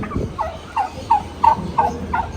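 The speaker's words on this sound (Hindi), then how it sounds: "यहाँ पे बतखें मौजूद हैं" Ducks at a street bird market in Madina, giving a run of about six repeated nasal calls at an even pace, fairly close and clear over a low background hum.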